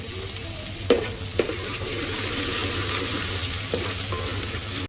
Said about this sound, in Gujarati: હવે આને થોડું સાતળવા દઈશું।